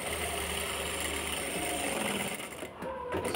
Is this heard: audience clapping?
no